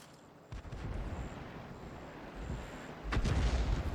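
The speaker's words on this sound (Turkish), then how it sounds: "Vursa da vurmasa da atışlara devam ediyor." Artillery fire from the 105 leFH18B2 self-propelled gun in World of Tanks: a dull boom at the start, then a heavier, louder blast near the end over a constant rumbling battlefield background.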